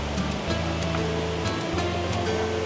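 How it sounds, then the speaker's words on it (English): Water from an indoor waterfall in a Dubai mall rushes steadily in a continuous, moderately loud splashing wash with a faint hum of the surroundings. "that's a small waterfall"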